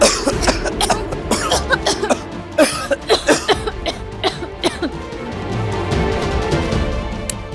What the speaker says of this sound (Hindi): तुम दोनों इतना खांस खा रहे हो?